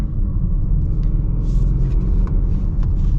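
A 2026 Jaguar F-Pace driving on a road, giving a steady, loud low rumble of engine and tyre noise throughout with no talking.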